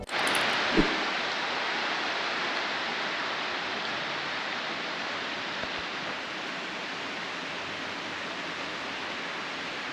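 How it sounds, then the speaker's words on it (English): Heavy rain pours steadily in the city of Phonsavan, Laos, a dense, unbroken roar of close, loud downpour that fills the whole stretch with no speech. "That is a lot of rain."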